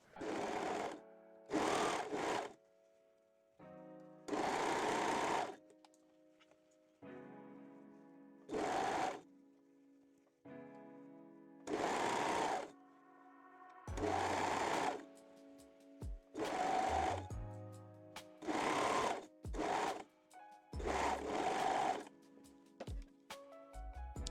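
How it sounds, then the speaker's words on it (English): A sewing machine stitches the leg openings of fabric binding on a garment in repeated short bursts, each a few seconds long, separated by quiet pauses with faint handling noises, close and clear. "And sew both leg openings"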